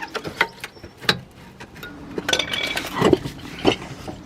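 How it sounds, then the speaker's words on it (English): A large two-pot brake caliper on a BMW 7 Series is levered off its bracket, making scattered close metallic clinks, taps and scrapes at irregular intervals, with no talking. "now if we lever the caliper away from the bracket"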